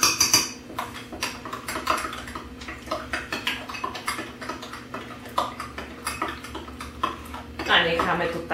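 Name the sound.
stirring homemade pizza dough with added flour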